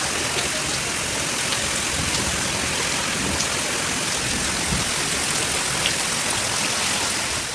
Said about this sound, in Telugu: చూసారు కదా ఎంత వర్షం పడిందో